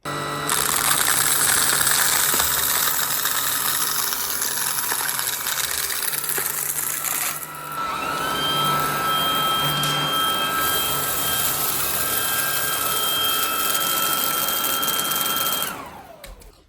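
A Shark ICZ300UKT anti hair wrap cordless upright vacuum running with its mini motorized pet tool: a steady, loud motor whine whose pitch shifts partway through as the brush spins up, holding until the machine cuts off at the end.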